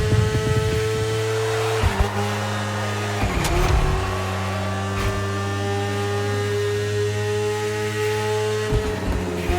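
A BMW S1000RR superbike engine runs loud and close, holding steady revs with a few brief shifts and dips in pitch over nearly ten seconds, with no talk.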